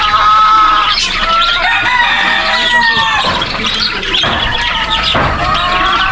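Chickens clucking and squawking at a farm, several birds calling close and loud over one another in a continuous busy chorus, with faint voices in the background.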